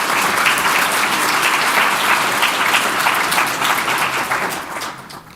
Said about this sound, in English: So let's give a quick round of applause to everybody.